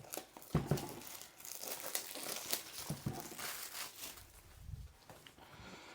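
Plastic and cardboard packaging crinkling as an Axe R3 speed control and 8th-scale motor combo is unboxed, close, irregular rustles and crackles at low volume.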